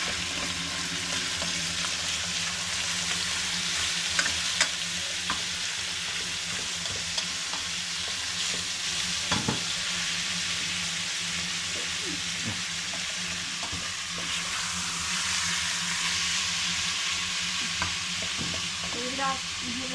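Chunks of meat for an oven kebab with vegetables sear and caramelize in a hot pan, a steady loud sizzle with frequent stirring scrapes and crackles, heard alone without voices.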